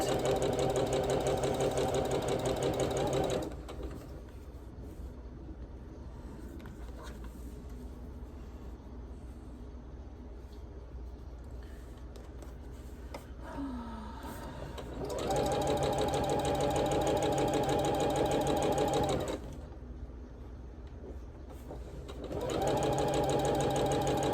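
A sewing machine stitches quilt block seams for a barn star sampler quilt, running in three steady buzzing bursts separated by quiet pauses.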